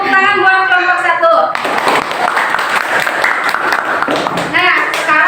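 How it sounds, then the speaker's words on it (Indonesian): Classroom applause for a student group, with a dense burst of clapping that rises suddenly after a speaking voice and carries on for several seconds before talk resumes near the end. "Beri tepuk tangan buat kelompok 1."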